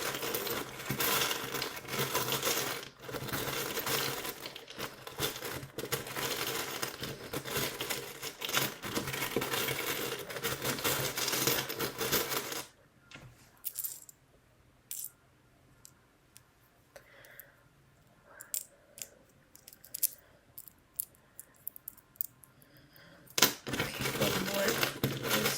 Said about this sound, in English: I'm gonna get some charms for you guys.